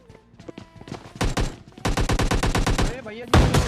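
Automatic gunfire in the mobile video game PUBG Mobile Lite, with a few scattered shots and then rapid sustained bursts, loud and close.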